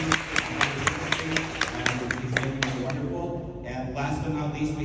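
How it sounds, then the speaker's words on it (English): An audience at a business improvement district's annual meeting applauds, with distinct claps ringing out quickly for a few seconds before fading, while voices murmur underneath. "So big round of applause for Ahmed."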